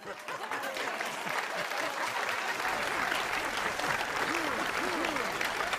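Game crowd cheering assembled from recycled character voice clips, a dense roaring swell of many voices with scattered whoops and shouts, rising quickly and holding at a steady loud level throughout.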